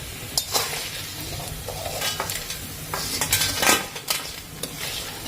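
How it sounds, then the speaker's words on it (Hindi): Gond, edible gum, frying slowly in ghee over a low flame, with a steady soft sizzle broken by repeated clinks and scrapes of a spoon stirring against the pan. "इसलिए हमें इसको धीरे धीरे धीमी आंच पर ही फ्राई करना है"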